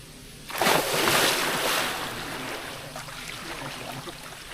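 Splashes of people jumping into a resort villa pool, a broad loud burst of churning water followed by sustained sloshing and rippling that slowly settles, with no talking.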